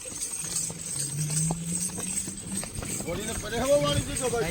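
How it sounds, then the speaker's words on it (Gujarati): A mare's hooves clip-clop steadily at a moderate pace as she is driven along outdoors, with voices talking over much of the sound. "આ જો ઘોડી હાંકવા જાતા"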